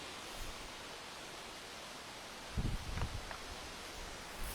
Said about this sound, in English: You can see that there's quite a wind blowing today.